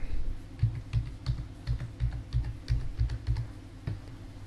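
Password being typed on a computer keyboard, a quick run of about a dozen close, crisp key taps in an uneven rhythm, heard alone with no talking.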